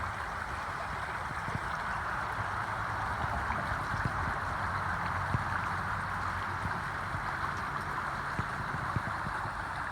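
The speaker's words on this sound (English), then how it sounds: "take some deep breaths as you listen to the sounds of the water" Water flows in a steady, soft rushing wash with faint gurgles and small splashes, continuous and fairly quiet, with no one speaking.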